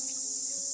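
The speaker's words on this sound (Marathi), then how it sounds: "रातकिड्यांचा आवाज बघा ना किती" Crickets chirp steadily in a home garden in the evening, a continuous high-pitched trill with no breaks, moderately loud and alone.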